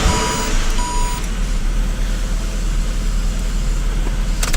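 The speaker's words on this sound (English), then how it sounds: "So now we hop up and just start the motor for a moment." An engine runs steadily in a workshop during a ZF 6HP26 automatic transmission fluid service, a loud continuous low rumble with a few brief beeps near the start, heard alone without talk.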